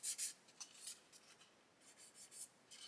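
A fine 2500-grit sponge lightly sanding painted model parts gives soft, quiet scratchy strokes in short bursts, close up with no talking.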